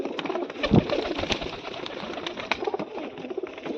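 Pigeons cooing outdoors in a loft, soft low coos mixed with scattered bird sounds and light background noise, fairly faint and continuous, with no talking.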